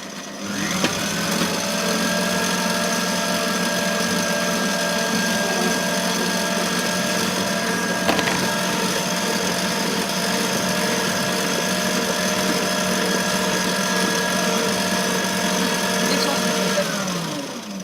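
An electric mixer blends chocolate cake batter ingredients, running with a steady, continuous motor whine at close range for the whole stretch, with no one talking.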